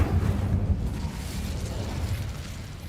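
Incendio fire spell cast in Hogwarts Legacy, heard as a loud, sustained roaring burst of flame that rumbles on steadily without easing.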